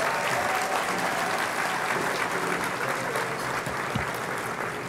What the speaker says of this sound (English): Can we have a round of applause for all of last night's performers?